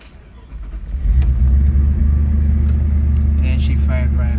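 A car engine primed with starter fluid sprayed in the intake cranks briefly, then catches and settles into a loud, steady low idle rumble close by, with a voice speaking briefly near the end.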